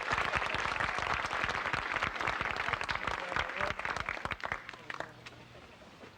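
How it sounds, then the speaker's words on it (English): A school audience at the Franklin School 100th anniversary applauds the chorus, a full round of clapping from many hands that stays strong, then thins out toward the end as individual claps become audible. "Let's give them another round of applause."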